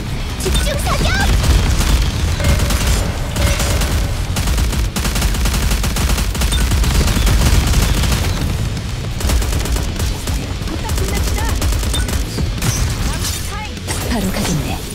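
Dense, continuous gunfire and booming blasts from a battle in the game Goddess of Victory: NIKKE, loud and sustained throughout, with a voice speaking over parts of the shooting.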